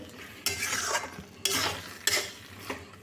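Tomato chutney stirred in a pan on a gas stove: three scraping, swishing strokes with a soft sizzle underneath, each stroke starting sharply and then fading, close and moderately loud.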